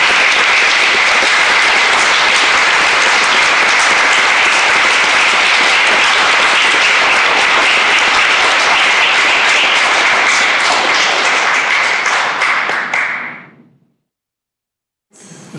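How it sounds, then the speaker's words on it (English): Sustained applause from an awards ceremony audience fills the room loudly and evenly for about thirteen seconds, then fades quickly into silence. "one more round of applause for Joe and May."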